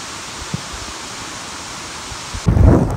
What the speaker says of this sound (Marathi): तर काय ना तो फायनली पाऊस झालेला आहे